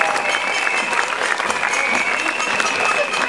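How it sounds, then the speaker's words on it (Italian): An audience applauding after a stage act, with loud, sustained clapping from a crowd and a faint voice mixed in underneath. "Ancora un applauso agli Schifanos!"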